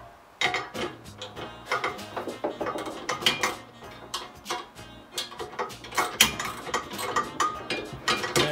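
A ratchet socket wrench clicks rapidly in bursts while tightening a neoprene lock nut during assembly of a DR-MT arm, with metallic rattles and clinks between strokes, close and fairly loud.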